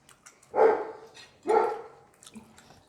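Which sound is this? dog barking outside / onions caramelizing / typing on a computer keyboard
dog barking outside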